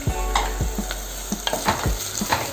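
Marinated mutton with garlic, stirred in a pot of sizzling tempering of browned onion and green chilli for a Telugu dosakaya mutton curry, gives a steady close frying hiss broken by repeated scraping strokes of a spoon.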